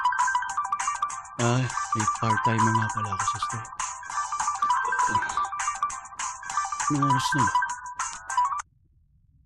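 Mobile phone ringtone playing a looping melodic tune for several seconds, loud and close, with a voice talking over it before it cuts off.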